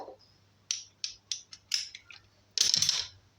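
A ratchet fitted with a 13 mm socket turns a bolt during a Range Rover Evoque 2.2 engine change, giving a series of short clicking bursts followed by a longer, louder rapid run of clicks, close up and alone.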